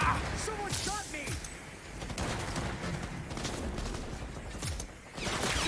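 Gunfire in the Cyberpunk 2077 video game, several sharp shots and bursts crackling through dense game noise and whooshes over about six seconds, with someone talking over the action.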